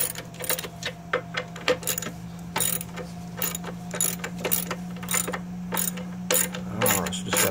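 Ratchet with a 16 mm socket snugging up mounting bolts during a CVT transmission swap on a 2012 Nissan Altima 2.5L, heard as a steady series of quick clicking pawl strokes in short bursts over a low constant hum, no talk.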